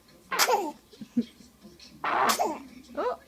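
Baby sneezing twice, small sharp bursts close to the microphone, with an adult voice talking and soft laughter in between.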